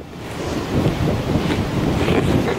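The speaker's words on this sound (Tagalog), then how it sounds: "May hangin na agad" Steady wind gusting across a lakeside campsite at Lake Whitney State Park, a loud, rough rush buffeting the microphone with rising and falling surges and no voices over it.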